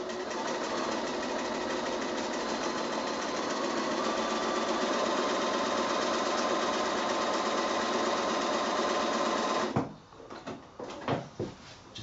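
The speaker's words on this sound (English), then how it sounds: "just start sewing so that you sew on the line" A sewing machine runs in one steady, fast whirring burst while stitching a quilt block along a marked line, close and even for about ten seconds, then stops, followed by a few soft handling clicks and knocks.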